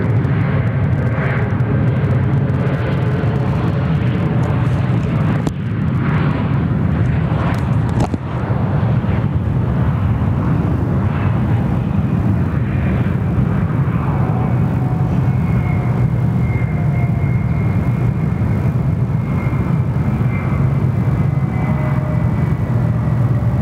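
An airliner takes off from runway 34 right at Sydney Airport, a loud, continuous jet roar filling the whole stretch without a break, close and unaccompanied by any speech.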